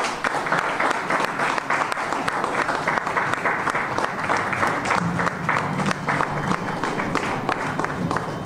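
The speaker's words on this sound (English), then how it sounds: "Round of applause, please" A large audience applauds at the Expo 2020 Dubai opening ceremony for the Botswana pavilion, sustained dense clapping from a crowd that holds steady for several seconds, with faint crowd murmur beneath.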